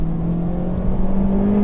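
Close, steady engine drone from a Honda Civic Type R FK8 Limited Edition under way, a smooth sustained tone with a slight rise in pitch over a couple of seconds and no talking.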